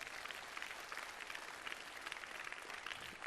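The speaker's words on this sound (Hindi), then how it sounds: "एक बार इनके लिए जोरदार ताली बजा दो भाई" Faint, steady audience applause for very young children at a yoga event, a dense wash of clapping heard from a distance without pauses.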